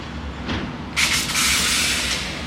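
London Underground Metropolitan line train departing Amersham station, with a low rumble that swells into a bright rushing hiss about a second in and continues steadily as the train pulls away.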